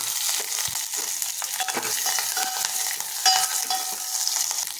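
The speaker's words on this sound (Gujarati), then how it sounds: "તેલ સરસ ગરમ થઈ ગયું છે તો હવે આપણે એમાં અડધી ચમચી રાઈ નાખીશું" Steady, close sizzling of mustard seeds and curry leaves in hot oil for besan kadhi, a dense hiss with scattered crackles and pops, no voices.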